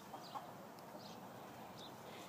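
Hens cluck in a backyard chicken coop that holds a broody hen: a few faint, scattered clucks and short calls over a quiet, steady background, with no talking.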